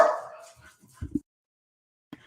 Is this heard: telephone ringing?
no